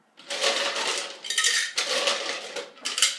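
Ice goes into a cocktail shaker for a tiki-style rum drink with blue curacao and lime: a few bursts of clattering, clinking cubes against the tin, close and fairly loud, with short pauses between.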